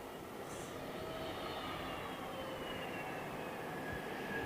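A British Airways airliner at London Heathrow Airport, a steady distant jet roar with a faint high whine slowly shifting in pitch, continuous and moderately quiet, no talking.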